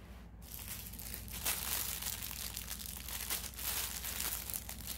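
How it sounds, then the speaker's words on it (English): Plastic packaging around a water lily-themed set of 35 colors crinkles and crackles continuously up close, a dense, noisy rustle throughout with no speech. "So if you don't like the noise of the crinkling plastic, too late now."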